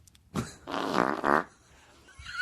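A wet, juicy fart of roughly one second, loud and close, comes alone with nothing else over it.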